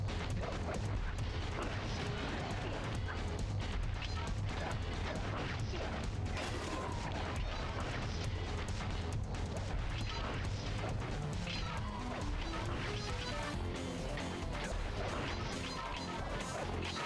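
Gunfire from a pistol in the Sly Cooper and the Thievius Raccoonus video game, a dense, continuous barrage of cracks and impacts layered over game music and effects, loud throughout with no pause.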